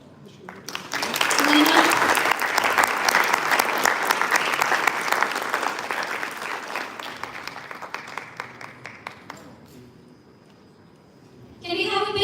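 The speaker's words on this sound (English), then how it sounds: "Can we have a big round of applause?" A conference audience at the Erasmus Mundus Association annual general assembly breaks into loud, sustained applause that gradually thins and fades out, with a voice speaking briefly at the start and near the end.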